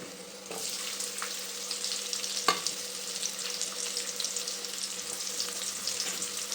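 Onions fry in a pan for egg rice, with a bright, steady sizzle and occasional utensil knocks and clinks, close and fairly loud, and no one speaking.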